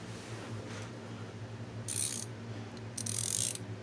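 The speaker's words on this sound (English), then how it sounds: "Listen to that. Doesn't that sound sweet? 100 tooth ratcheting wrench set." A 100 tooth ratcheting wrench clicks in two short, fine, high-pitched bursts, close and fairly quiet over a steady low background hum.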